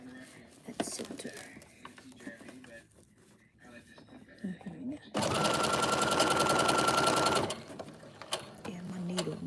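A sewing machine runs in one loud continuous burst of rapid stitching for a couple of seconds while sewing a craft fair project, preceded and followed by quieter handling sounds and a person talking.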